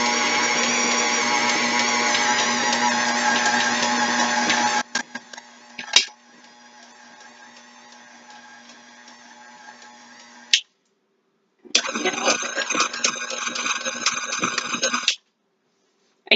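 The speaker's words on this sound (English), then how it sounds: "We're going to mix it on low just until it comes together and no further." An electric mixer whirs steadily on low speed through pie crust dough, running loud for several seconds, then dropping to a quieter hum, stopping, and starting again with a busier, rattling whir before cutting off.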